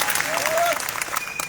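Short burst of clapping from an audience at a tribal conference, honouring a painting, dense and fairly loud with a raised voice and crowd noise mixed in.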